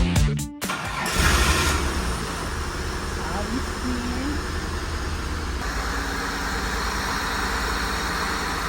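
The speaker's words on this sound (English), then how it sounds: "The sound of the engine says it all." An abandoned rare Australian car cranks with a few quick starter bursts, then fires and settles into a loud, steady idle with a brief rev, close by and continuous.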